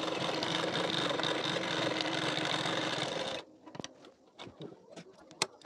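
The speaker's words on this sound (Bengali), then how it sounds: "এবার এর উপর থেকে মেশিনে সেলাই দিয়ে নিতে পারেন" A sewing machine stitches a hook strip onto a collar-neck katori blouse, whirring steadily and close for about three seconds, then stopping and giving way to scattered clicks and fabric handling.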